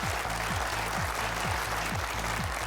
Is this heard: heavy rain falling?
no